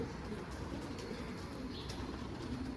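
Young homing pigeons coo softly in a loft, the low murmuring calls faint and continuous beneath a constant background rumble.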